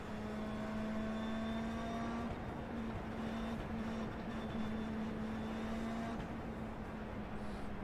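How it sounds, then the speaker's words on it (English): A steady, droning Indy car engine in the iRacing video game holds a constant high pitch, loud and continuous, with a slight change in tone partway through. "I love this engine. I miss this engine powering Indy cars."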